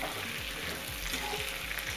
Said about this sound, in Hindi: 5 मिनट तक फ्राई होने दो चिकन को।